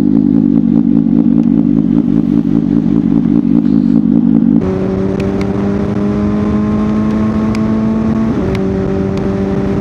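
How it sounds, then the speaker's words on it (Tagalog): A motorcycle ridden through Tagaytay on an early morning, its engine droning loudly and steadily up close, the pitch climbing smoothly before a gear change near the end. "Sarap magmotor dito sa Tagaytay ngayon pare."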